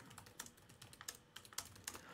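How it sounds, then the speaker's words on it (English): Typing on a computer keyboard during a Linux penetration-testing session: quick, close, uneven bursts of crisp key clicks with short pauses between them, and no talking. "Why am I typing it out?"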